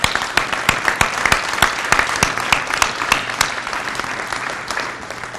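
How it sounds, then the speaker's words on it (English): An audience claps steadily in sustained applause at a police awards ceremony, lively and fairly close, with individual sharp claps standing out from the crowd. "I really want to call for a big round of applause for all the family members"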